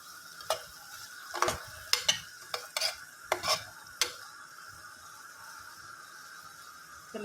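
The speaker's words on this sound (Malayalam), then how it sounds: "എല്ലാം കൂടി ഒന്ന് ഇളക്കി കൊടുക്കാം" A spoon stirs sizzling ingredients for a Kuttanad-style duck stew in a pan, with a soft steady sizzle and a series of distinct scraping clicks from the utensil, quiet and close.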